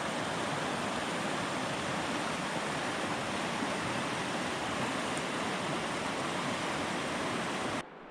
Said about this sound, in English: Beautiful, beautiful river.